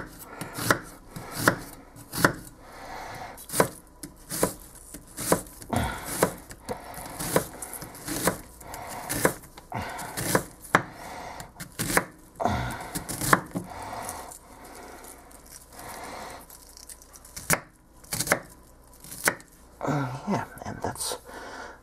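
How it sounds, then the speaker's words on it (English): A knife slices onions on a crowded wooden cutting board for goulash, sharp irregular chopping knocks repeating close by, with occasional quiet talking between cuts. "The onion slicing done."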